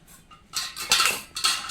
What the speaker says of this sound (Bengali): আলুটা কীভাবে খোসা ছাড়িয়েছি দেখিয়ে দিচ্ছি দেখুন